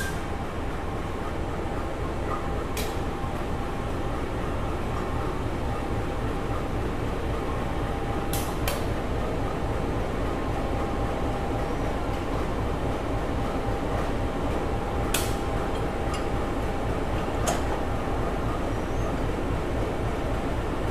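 A Dharmawangsa train locomotive is shunted and readied for coupling to its carriages, giving a steady low diesel rumble and hum with a few brief sharp clanks scattered throughout, no voices present.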